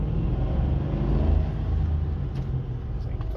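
A car engine rumbles steadily at low pitch while the driver shifts gears one-handed near a stop sign, with muffled in-cabin road noise throughout.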